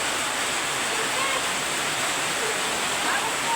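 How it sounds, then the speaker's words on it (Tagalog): Very heavy rain pours down outside, a dense, steady roar with no breaks, loud and close throughout. "Sobrang lakas ng ulan mga kajimar."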